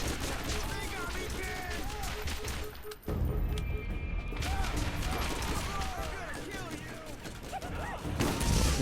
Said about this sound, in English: That explosion was not my friend.